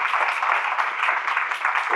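Audience applause at a speech, a steady dense wash of clapping holding at an even level for the whole stretch with no talk over it.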